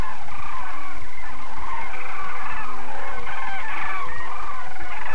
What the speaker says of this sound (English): The cry of the sandhill can be heard for a great distance.